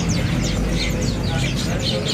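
Kaso-kaso birds at a bird market give a rapid run of bright, repeated chirps, fairly close, over a dense background of market chatter and noise.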